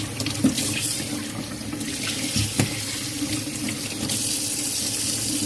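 A kitchen tap runs steadily while catfish is rinsed inside and out, a continuous close hiss of water with light splashes and a few soft knocks.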